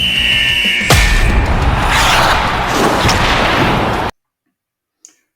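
A show-intro explosion sound effect hits with a sharp boom, then a rumbling roar trails off for about three seconds before cutting abruptly to silence, followed by one faint click.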